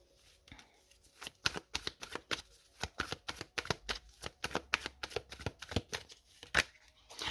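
Tarot cards shuffled by hand, a rapid, steady run of crisp close riffling snaps and slaps, each card fall distinct, with no talking.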